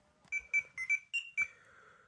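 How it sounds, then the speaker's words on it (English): Six quick electronic beeps in a rapid, slightly uneven rhythm, close and clear, with a short fading tone at the end. "Then, Jason pressed a button on his communicator, and it beeped."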